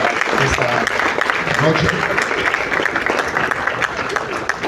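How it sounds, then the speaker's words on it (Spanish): An audience at an evening literary event honouring author Edgardo Rivera Martínez bursts into steady, dense applause that fills the whole moment, with a voice speaking over the clapping. "También voy a pedir unas fuertes palmas a doña Betty, que nos acompaña"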